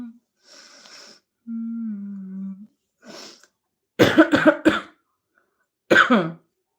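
A person with a cold coughs close by in two short clusters of harsh coughs, preceded by a brief hummed vocal sound and a faint breath.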